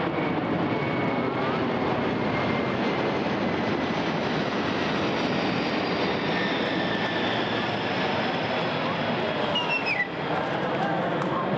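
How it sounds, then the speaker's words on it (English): A military aircraft flies over a Veterans Day parade, its jet engine producing a broad, steady roar that stays loud and continuous, with a faint whistling tone on top. "It's our team Travis doing a flyover."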